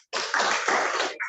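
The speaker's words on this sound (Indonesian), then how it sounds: "Tepuk tangan dulu buat Cindy" A short, brisk burst of clapping for a student in a classroom rises suddenly and stops after about a second, close and moderately loud.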